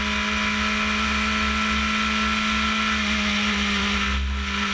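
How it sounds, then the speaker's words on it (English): BRDC Formula 4 race cars at Silverstone's Copse Corner, a loud continuous engine whine with steady pitched tones that dips briefly near the end, with no talk. "this huge queue of cars to be third funnels through Copse Corner now"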